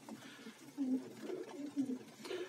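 Pigeons in a crowded dovecote at morning feeding, giving soft low cooing calls that rise and fall in short phrases, fairly faint and close with a quiet background hum.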